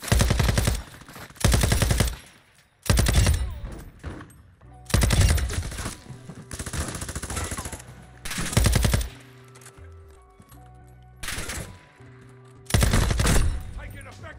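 Automatic weapon fire in Call of Duty DMZ mode, loud bursts of rapid machine-gun shots repeating every couple of seconds, with quieter game sounds filling the gaps.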